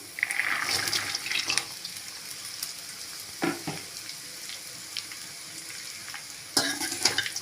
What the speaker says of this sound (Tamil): நம்ம பொடியை கட் பண்ணி எடுத்த கோஸையும் பீன்ஸையும் சேர்த்துக்கலாம்